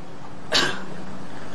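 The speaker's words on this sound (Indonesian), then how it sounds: "Bapak batuk ya?" A man coughs once, a short, harsh burst close to the microphone against a quiet indoor background.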